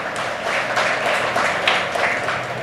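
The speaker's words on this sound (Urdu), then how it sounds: "مجھ کو لگتا ہے اس بات پہ تھوڑی سی تالی ہو جائے تو بہتر ہے نا سر کے لیے۔" Audience clapping at a book launching ceremony, a steady wash of many hands applauding throughout the short stretch at moderate loudness, with no talk over it.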